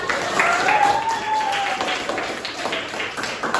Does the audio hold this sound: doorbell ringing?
no